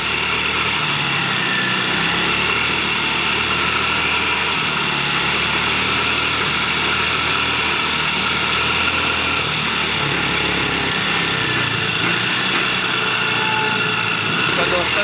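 A Mahindra Rodeo scooter engine runs steadily after a fuel pump repair, a close, continuous motor hum and whine that holds an even pitch without revving for the whole stretch.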